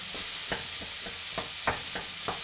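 Onion, courgette, carrot and mushroom cook down in a pan with a steady sizzle, broken by about eight soft scraping stirs at an uneven rhythm, close and moderately loud.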